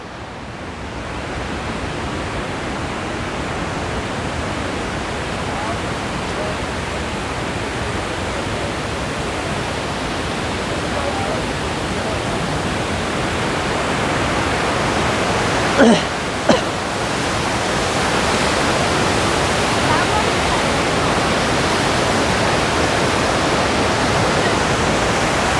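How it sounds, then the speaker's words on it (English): The Attukad waterfall near Munnar, Kerala roars as a constant, dense rush of falling water, steady and enveloping, with two brief sharp knocks midway. "Now let's explore the Attukad waterfall."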